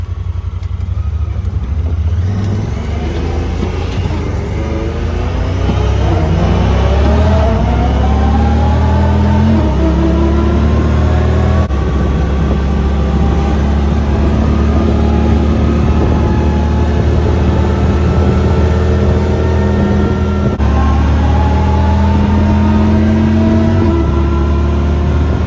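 A Honda Pioneer 1000-5 side-by-side with a 6-inch TTC lift drives hard, its engine loud and close, revving up repeatedly in rising sweeps through the gears with a constant rumbling drone underneath.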